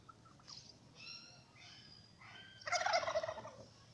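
A male turkey gobbles on a turkey farm in Kashimpur, Gazipur, Bangladesh: a few short warbling calls, then a loud, rapid, rattling gobble close by, with no talk over it.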